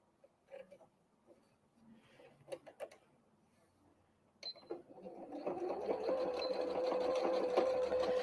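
A sewing machine stitching a Christmas tree napkin, starting with a few faint clicks and handling noises, then running steadily and growing into a loud, continuous mechanical whir for the last few seconds.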